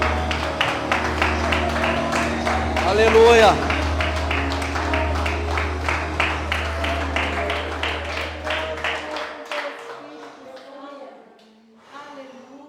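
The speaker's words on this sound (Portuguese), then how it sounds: "Louve ao Senhor com suas palmas" A church congregation claps its hands in praise in a steady, even rhythm that runs for about ten seconds under a voice and music, then stops.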